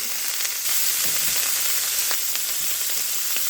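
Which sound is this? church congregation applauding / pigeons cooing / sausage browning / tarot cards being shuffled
sausage browning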